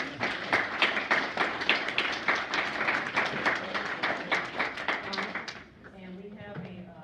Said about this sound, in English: And please give a round of applause.